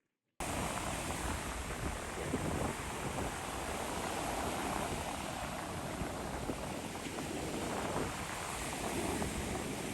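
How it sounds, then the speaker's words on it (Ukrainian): Waves and wind at Karon Beach, Phuket, a long, wide beach: a steady broadband wash of surf with wind rushing over the microphone, continuous and fairly loud throughout after a brief silent start. "Пляж Карон один з найкращих пляжів на Пхукеті."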